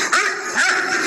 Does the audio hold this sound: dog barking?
yes